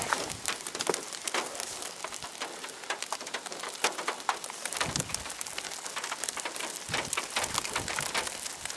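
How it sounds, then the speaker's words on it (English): Sun shower rain falling steadily, a dense crackle of drops striking surfaces nearby, with scattered louder individual splats through an even, continuous wash. "How cool is this? Sun shower."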